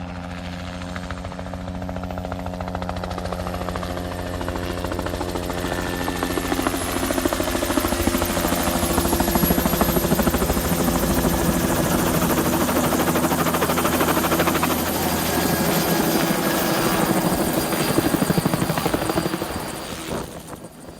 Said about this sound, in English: What you're seeing here is a helicopter